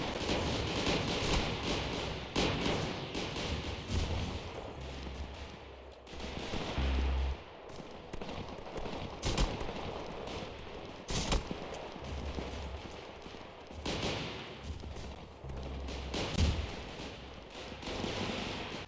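Continuous rapid gunfire from starter weapons in a Roblox free-for-all on Victoria Harbor, with dense overlapping bursts and shots running almost without pause, loud and near throughout.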